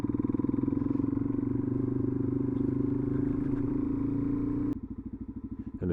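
A Suzuki DRZ400 motorcycle's exhaust idles and revs close by, a loud, rhythmic single-cylinder thumping that suddenly drops to a lower, choppier idle near the end.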